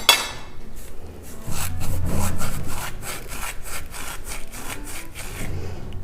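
Dry spices for aloo tikki are crushed by rubbing them between the palms, giving a continuous close rasping rub with repeated scratchy strokes and no talking.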